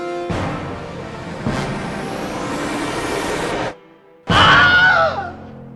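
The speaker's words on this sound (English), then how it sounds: "A man getting bit by an alligator and he screams." Wilhelm Scream recording of a man bitten by an alligator: loud, close male screams, two long sustained yells followed by a short gap and a sharp, wavering final shriek, with no other voices.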